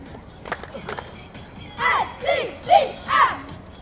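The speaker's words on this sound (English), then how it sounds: "Let's have a cheer for the cheering team." At a St. Mary's Bazaar parade, a crowd gives four rhythmic chanted shouts for the NCCS Cougars cheerleading team after a couple of faint calls, loud and near.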